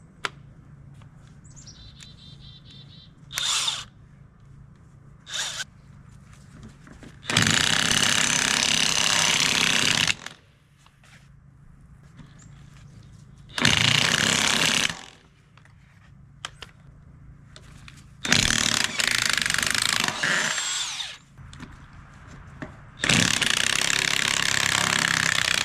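DeWalt DCF900 cordless impact wrench working the lug nuts off an old trailer axle: several loud, close rattling hammer bursts of a few seconds each, split by quiet gaps with faint birdsong outdoors.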